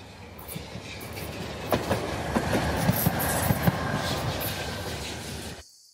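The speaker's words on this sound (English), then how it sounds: "So I'm gonna jump on a tram now" A tram rolls along its rails in Kharkiv, Ukraine, with a steady broadband rumble and repeated clickety-clack wheel knocks, close and continuous, before the noise cuts off abruptly near the end.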